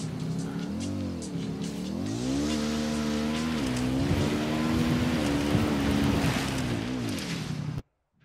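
A vehicle engine in the video game Ghost Recon Wildlands drones and revs continuously, pitch rising and dipping as the car accelerates and shifts, loud and close, then cutting off abruptly at the end.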